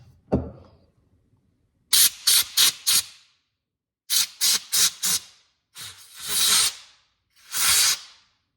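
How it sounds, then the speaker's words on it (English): Compressed air from an air compressor blowing off motorcycle fuel system gaskets on a Suzuki DR-Z400S: short sharp hissing bursts, four rapid blasts, then four more, followed by two longer sprays, close and loud. "I'm going to spray them off with the air compressor right afterwards."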